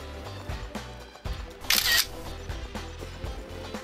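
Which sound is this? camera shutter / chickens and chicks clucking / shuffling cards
camera shutter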